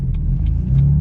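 Car with an S55 engine running the stock exhaust and muffler, a close, steady low rumble and drone with no other sound over it.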